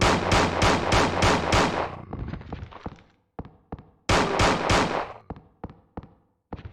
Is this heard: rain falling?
no